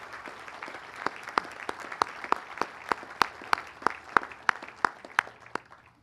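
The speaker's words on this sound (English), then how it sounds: "give them a thunderous round of applause to thank them for what they have put on the altar of freedom" Applause at a Veterans Day ceremony, heard as a string of sharp, evenly spaced claps ringing out over a faint background, with a steady rhythm of roughly two or three claps per second across the whole stretch.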